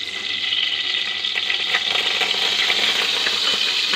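White oil heats in a wok on a gas flame while making chole bhature, a steady close hiss and faint crackle running unbroken throughout.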